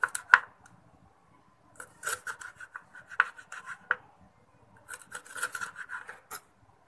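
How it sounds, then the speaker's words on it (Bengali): A knife slices okra lengthwise on a board in short scraping strokes, close and crisp, grouped in bursts with quiet pauses between them and no talking. "আমি ঢেঁড়সটাকে আজকে এভাবে লম্বা করে কেটে নেব।"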